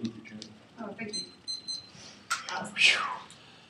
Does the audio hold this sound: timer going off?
yes